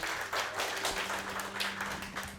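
A stand-up comedy audience in a Bishkek café claps steadily, a dense, even wash of many hands from start to finish with no one speaking over it.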